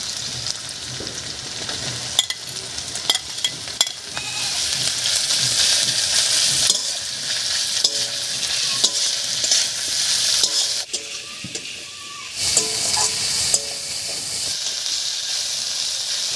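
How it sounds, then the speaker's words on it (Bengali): Fish and onion sizzle and hiss steadily in a hot pan, with occasional scraping and stirring clicks throughout. "মাছ আর পেঁয়াজটা বেশ একটু ভাজা ভাজা করে নিয়েছি"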